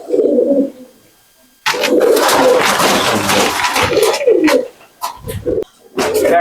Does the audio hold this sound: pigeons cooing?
yes